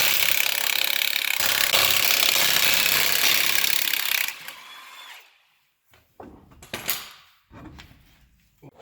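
Heavy pneumatic impact wrench loosening 24 mm lug nuts on a jacked-up Dodge Ram 4x4 wheel: a loud continuous hammering burst for about four seconds, then quieter clanks and rattles as the nuts come free.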